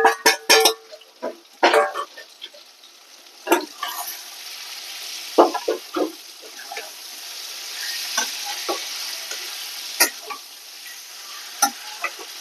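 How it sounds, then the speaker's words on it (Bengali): Lightly fried prawns go into a hot pan and fry in oil. A steady sizzle runs the whole time, broken by loud bursts of spatula scraping and clatter, with quieter stirring and scattered clicks later. No one speaks. "এবার চিংড়ি মাছটা দিয়ে দেব। এটা হালকা ভেজে রেখেছি,"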